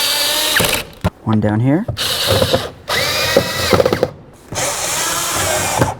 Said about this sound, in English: Now it's going to be time to put in our mounting screws.